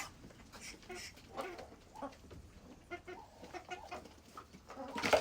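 Chickens and ducks in a coop at evening feeding time, with scattered clucks and bird calls over a soft, busy background; brief bursts of faint bird noise with no clear speech.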